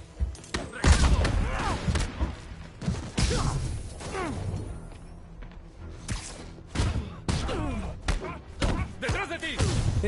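Gunshots and impact thuds ring out in a Spider-Man PS4 game fight, scattered sharp bursts mixed with whooshes and brawling hits while characters shout in Spanish.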